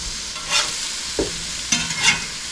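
Sausage sizzles steadily in a hot frying pan while being turned, the constant crackle broken by a few short scraping and clinking sounds of a utensil against the pan, close and moderately loud, with no talking.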